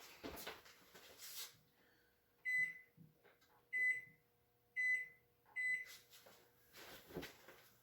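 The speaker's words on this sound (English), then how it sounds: "Okay, let me set my timer." A kitchen timer being set for two minutes while a lemon meringue pie is made gives four clear, evenly spaced electronic beeps, close and crisp, between soft handling noises in a quiet kitchen.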